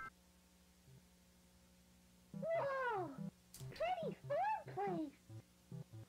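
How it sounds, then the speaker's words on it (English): A cat outside meows in a string of drawn-out, wavering cries, loud and close, with a low steady electronic hum underneath. "It's a fucked up cat outside!"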